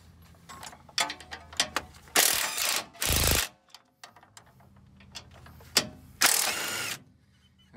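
A ratchet with an extension tightens bolts on a 2020 Jeep Gladiator trackbar, sounding in short bursts of rapid clicking pawl strokes interspersed with clanks and a few longer, louder ratcheting runs, close up with no speech.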